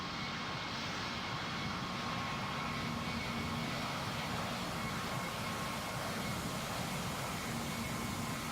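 An airliner in Roblox Pilot Training Flight Simulator powers up for takeoff, its engines giving a steady, broad roar that holds at a constant, moderate level throughout with no voices.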